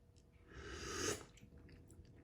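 Someone slurps and chews spicy Chongqing-style ramen broth with bulgogi up close, a single slurp swelling for about a second before soft chewing and mouth sounds.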